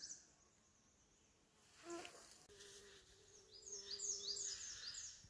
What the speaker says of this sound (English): There's another little different kind of bee.